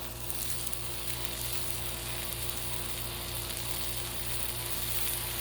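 Hash brown patties and other breakfast food frying on a hot Blackstone griddle, a steady close crackling sizzle with constant hiss throughout and no talking.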